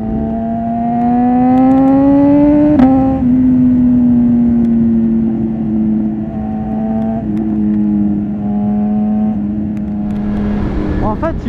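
A BMW S1000RR motorcycle pulls hard under acceleration with a loud, close engine drone that climbs in pitch, drops abruptly at each quickshifter gear change, then climbs again through several shifts.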